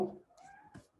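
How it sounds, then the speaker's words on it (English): A pet cat meowing for its dinner indoors gives a couple of drawn-out, rising and falling meows after a brief thump at the start, fairly close but soft. "My cat wants food."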